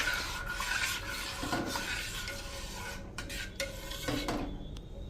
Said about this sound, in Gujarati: તો હવે આમાં આપણે આ જે કોર્નસ્ટાર્ચ અને મિલ્ક પાવડર વાળું દૂધ આમાં નાખી દેશું અને આ રીતે આપણે કન્ટિન્યુ ચલાવતા રહેશું